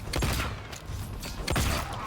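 Gunfire from the Mortal Kombat 1 fighting game during a tournament match, two sharp bursts near the start and middle over a dense, loud background of game effects with no voices.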